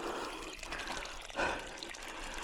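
Water from a container is poured onto avocado and cardamom plants on a farm. It makes a faint, steady trickling wash, with one brief louder splash midway.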